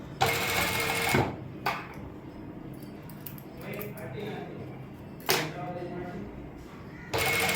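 A sewing machine runs in short bursts while stitching a V-neck along buckram, with a quiet rattle in the pauses between runs.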